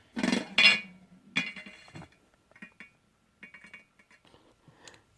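A LEGO Beyblade spins and clatters in a series of hard plastic clicks and rattling impacts, with loud bursts at first and then lighter intermittent taps as it winds down.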